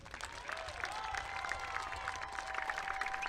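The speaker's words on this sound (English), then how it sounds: "Let's give one final big round of applause for all of our seniors." Crowd applause for the Covington high school seniors on a varsity football night, steady clapping and cheering from the stands with a faint tone running through it, moderately distant.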